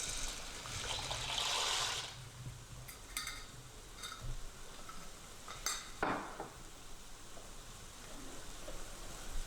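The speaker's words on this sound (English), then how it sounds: "we're going to put the pasta into the already boiling water" Water bubbles and hisses quietly in a pot, with a rush and a few clinks and splashes as pasta goes into the boiling water, then a soft steady simmer.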